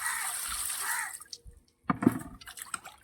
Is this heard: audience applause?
no